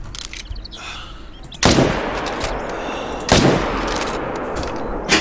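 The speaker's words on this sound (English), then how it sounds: "I'm gonna go ahead and take her down with a 300." Two loud, sharp .300 rifle gunshots ring out about two seconds apart in the hunting video game Revontuli, each with a long echoing tail over steady outdoor ambience.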